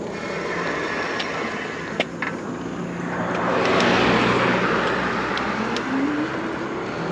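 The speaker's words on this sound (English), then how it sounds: "My mirror did tell me that car was coming" A car passes along a road, its engine and tire noise swelling to a loud peak mid-way and then fading, over a constant low rumble.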